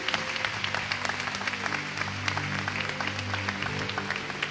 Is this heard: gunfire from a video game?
no